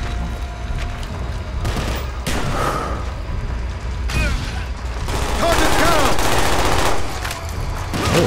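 Video game gunfire in Call of Duty Black Ops, dense rapid bursts of automatic shots and booms layered continuously, loud, with players' voices talking over the action.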